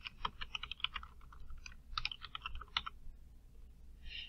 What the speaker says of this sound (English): I'm going to type in Workforce Centers in A1